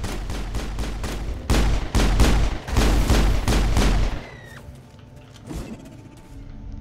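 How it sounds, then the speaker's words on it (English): Rapid bursts of gunfire and explosive blasts from a Mass Effect battle, loud and dense, with heavy low-end booms pounding for about four seconds before dropping to quieter debris, whines and scattered impacts. "That's a grenade."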